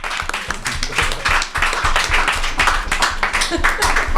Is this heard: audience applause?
yes